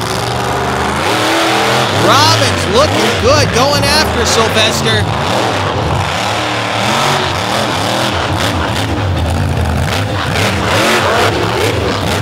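Monster truck engines roar and rev repeatedly with rising and falling whines during a racing event in Brooksville in 2023, loud and continuous, while an announcer talks over the noise.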